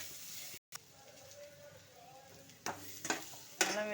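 Freshly pounded ginger-garlic paste fries in a pan with already-browned onions, giving a soft, steady sizzle that rises briefly with a few stirring scrapes and utensil clinks near the end.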